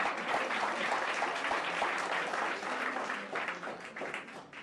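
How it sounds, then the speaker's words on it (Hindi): Dense applause from a crowd at a large employment fair event, honoring students; steady, fairly distant clapping throughout. "उनके लिए भी एक बार जोरदार तालियां।"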